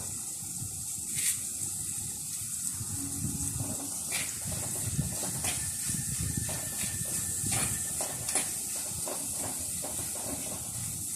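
Green chillies, crushed ginger, onion and curry leaves sautéing in a pan for a Kerala mackerel curry give a steady, bright hiss that stays level throughout, with faint scattered clinks and ticks of stirring over the sizzle.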